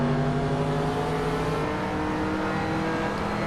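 Race car engine from a Hot Wheels video game drones steadily and loudly throughout, its tone shifting slightly partway through, with no talk over it.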